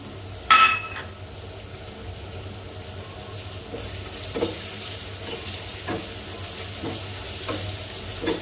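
Tomato masala with ginger is stirred in a hot pan, producing a continuous frying sizzle punctuated by a clink of the spoon on the pan early on and several softer scraping strokes afterward.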